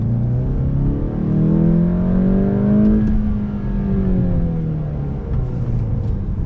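A 2020 Volkswagen GTI SE with a manual gearbox revs up loudly and close, engine tone climbing then dropping through a gear change, the revs falling slowly before pulling again.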